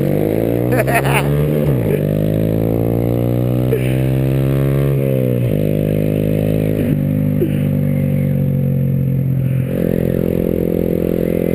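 A Honda Grom motorcycle engine revs loudly and close, with repeated rising and falling throttle sweeps and short pauses between bursts.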